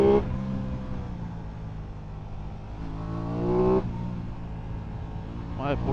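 An Aprilia Tuono 660 motorcycle engine revs up through the gears, with rising harmonic sweeps as it accelerates and shifts, loud and close as onboard, a brief voice heard near the end.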